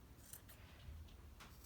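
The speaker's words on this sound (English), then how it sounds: "I've got some fairly big scissors here." Large scissors chopping into a yarn pompom, giving a few quiet, close snips in uneven rhythm over a soft low background, with no talk.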